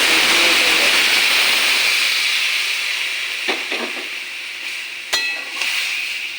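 Hot water hits a pan of frying bottle gourd greens with fish vadi, setting off a loud steamy hiss that gradually eases into quieter sizzling, with a few sharp clatters of a utensil.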